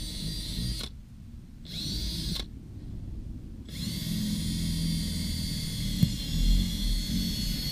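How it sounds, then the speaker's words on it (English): A power drill bores holes into the wheels of a mobile chicken coop, giving a steady whirring hum that stops briefly twice early on, then runs continuously and fairly loud, with a sharp click near the end. "The next step will be to literally drill holes"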